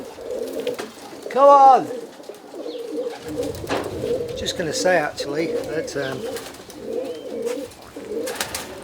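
Roller pigeons coo in soft, repeated throaty rolls nearby, with a brief sharp call early on and someone speaking briefly over them.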